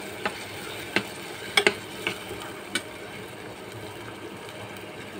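Hilsa fish curry sautéing in a pan gives a low background sizzle, punctuated by several sharp spoon taps and scrapes against the pan, with no voices.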